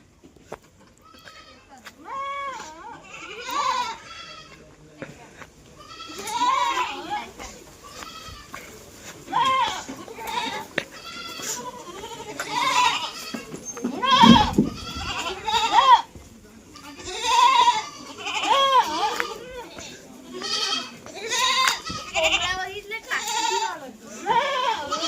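Goats bleating on a farm that also keeps poultry and cows, repeated close calls in irregular bursts, with people talking now and then.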